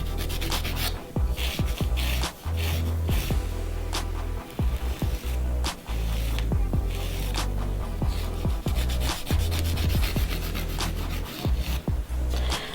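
A nail file shapes a fingernail in a manicure, giving close, continuous rasping strokes in a steady back-and-forth rhythm with brief pauses and no talking.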